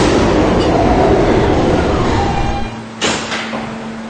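An R160 subway car on the E line runs with a steady loud rumble and hum. A brief clatter and squeal bursts out near the end, with no speech heard.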